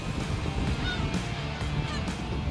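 Gulls squawking around an anchovy fishing boat at sea, several harsh calls overlapping in a steady noisy din of wind, water and engine with no speech.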